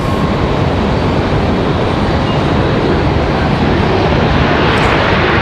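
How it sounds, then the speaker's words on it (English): A business jet touching down at Raleigh-Durham International Airport, a loud, steady broadband engine roar that holds throughout with no voices. "We've got an exec jet touching down here."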